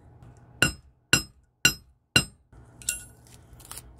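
A hammer strikes a silver pendant backplate to texture it, four sharp, evenly spaced metallic blows followed by lighter, quicker taps, close and clear with no talk.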